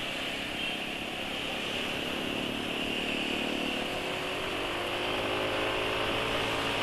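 A Yamaha NMAX scooter engine running steadily close by, a constant buzzing drone that holds evenly throughout with a slight rise in pitch near the end.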